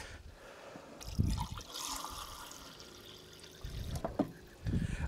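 Water is poured into beef stock concentrate in a quiet kitchen, making a few short, soft splashing and trickling bursts close by.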